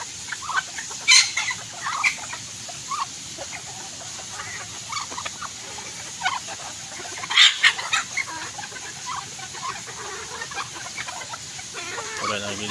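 Chickens, wet from the rain, cluck in a backyard with scattered short calls and a couple of sharper squawks. The clucking sounds fairly near over a soft background hiss.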